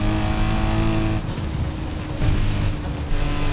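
Drift car engine in a Forza Horizon 4 game, driving along in a convoy; a steady loud motor drone holds throughout with slight shifts in pitch, and no voices over it.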